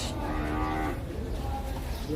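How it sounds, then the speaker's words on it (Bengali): A buffalo at a crowded cattle market before Eid lets out a long, low moo that fades over a couple of seconds, loud and near, with market bustle behind it. "আপনার একটা মহিষ দেখতেছেন চিবাইতেছে কিভাবে দেখছেন"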